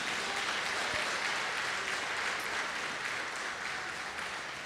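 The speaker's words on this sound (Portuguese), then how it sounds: "Pode louvar com palmas?" A church congregation clapping hands in praise during a sermon: a long, dense, continuous roar of many hands clapping, loud and steady from start to finish, with no speech over it.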